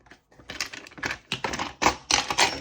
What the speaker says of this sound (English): I need a 12-sided dice, Dee.